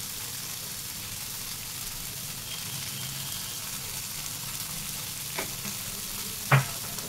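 Okra with salt and garam masala fries in a pan under a spoon, a steady close sizzle with stirring and a couple of brief scrapes near the end.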